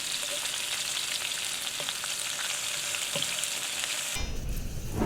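Onions frying in a pan for an onion burger, a continuous close sizzle with faint stirring scrapes, then a sudden shift to a low rumbling noise near the end, no voices.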